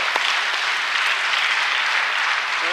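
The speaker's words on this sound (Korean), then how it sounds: "박수랑 영광 돌리겠습니다" Congregation in a church bursting into loud, sustained applause, a thick continuous roar of clapping with no voices over it for the short stretch.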